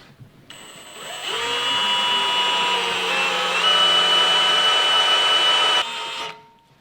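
A power drill bores holes through a vehicle bumper to mount a light bracket, a steady high whine that spins up and holds loud for about five seconds before cutting off.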